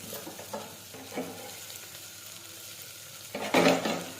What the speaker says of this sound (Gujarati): હવે આપણે ફરી પાછું સાતળી દઈશું।